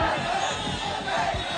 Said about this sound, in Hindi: जुमे की नमाज के बाद हाथों में आई लव मोहम्मद का पोस्टर लेकर निकली भीड़ ने प्रदर्शन किया।